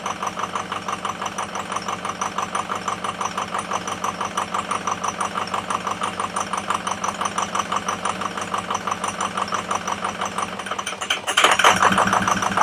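A Ford F-350 engine idling roughly, with a steady uneven pulsing chug at moderate loudness that holds for about eleven seconds before a brief louder surge near the end.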